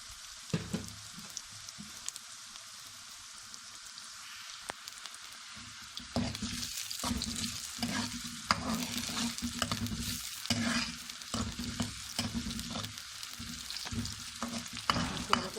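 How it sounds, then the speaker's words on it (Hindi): Garlic and ginger fry in a pan: a faint, steady sizzle with stirring scrapes and clinks that grow busier partway through, with no talk. "अब इसके साथ ही लहसुन अदरक"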